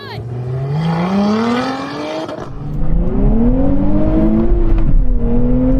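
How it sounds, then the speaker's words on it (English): Porsche, Toyota, Lotus and Nissan cars accelerating hard in a drag race: loud, close engines roar with pitch climbing through several gear changes, and a second surge builds as more engines join. "Come on, keep on accelerating, Watson."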